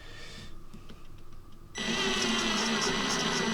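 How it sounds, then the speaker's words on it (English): A power drill bores a hole in a wooden N gauge model railway layout. After a quiet stretch with light handling noises, it starts abruptly and runs as a steady, close whine to the end. "I just need to drill the hole."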